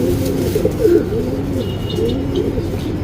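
Pigeons offered for breeding in Bangalore coo steadily, low rolling calls repeating close by over a dense background murmur, with faint chirps mixed in.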